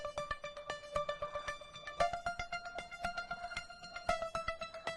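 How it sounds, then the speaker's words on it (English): High string pulses from the Gravity 2 library play a steady, fast, evenly plucked ostinato, bright short notes repeating in a tight rhythm at moderate volume with no other sounds. "I'm using some high pulses, even in this case, from Gravity 2"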